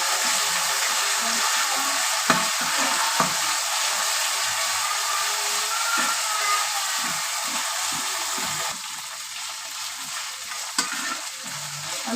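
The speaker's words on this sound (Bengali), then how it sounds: "আমি একটু ভেজে নেব।" Onion frying in a pan with garlic, ginger and cumin paste, a steady close sizzle with occasional stirring scrapes, continuous throughout with no talk.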